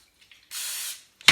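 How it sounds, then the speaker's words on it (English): Cooking spray hisses from a can into a tin foil pocket made for roasting garlic, one short close burst of about half a second after faint handling clicks, then a second quick hiss starts at the end. "Spray in with a little bit of cooking spray."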